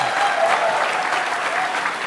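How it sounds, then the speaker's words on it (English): Audience applause at the 2023 LBJ Birthday Bash political event, dense and loud crowd clapping sustained throughout without a break. "let's give that guy a big round of applause"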